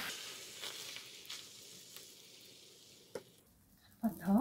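An egg roll cooks in a pan over medium-low heat, giving a soft, steady sizzle of frying egg with occasional light scraping and stirring taps, close by and quiet, ending in a louder clatter.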